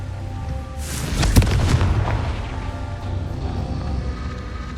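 A Confringo explosive spell blast in the Hogwarts Legacy video game goes off as one loud booming burst. A rumbling tail fades under low ambient music.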